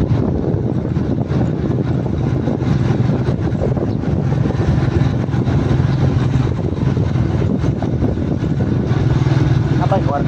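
A motorcycle engine runs close and loud with a continuous rough drone that holds steady throughout.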